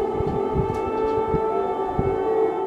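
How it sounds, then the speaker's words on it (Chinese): An air raid siren wails over Kyiv, a loud sustained steady tone holding throughout with faint low thumps beneath, no voices. "基辅响起空袭警报后没多久"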